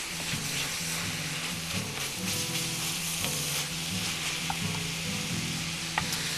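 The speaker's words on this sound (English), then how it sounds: "Boy, this stuff is just jumping out of this frying pan." Eggplant sizzles and spits steadily in a frying pan, a dense continuous crackle close up with occasional sharp pops and stirring, no voices.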